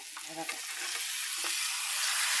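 Pumpkin vegetable with spices and salt stirred in a frying pan, a steady bright sizzle with a few soft scraping strokes early on, close and without voices.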